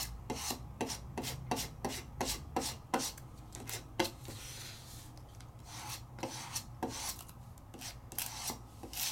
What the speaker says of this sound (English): And give it a rub.